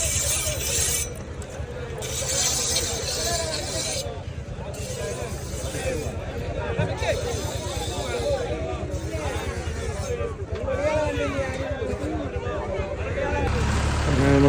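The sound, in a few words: sea waves at Poonthura beach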